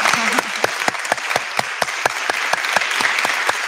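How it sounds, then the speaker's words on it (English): An audience applauds at a talk event at the Clinton Presidential Center in Arkansas, a steady wash of clapping with one close pair of hands striking sharp, evenly spaced claps about every third of a second throughout. "Can we give her a round of applause?"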